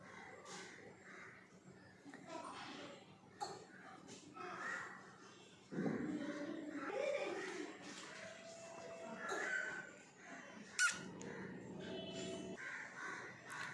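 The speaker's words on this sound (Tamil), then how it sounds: "இது என்ன பேர்டுன்னு தெரியல, ஆனால் சவுண்டு ஒரு மாதிரி இருக்கிறது" A bird gives repeated crow-like caws, harsh and fairly near, among other noises.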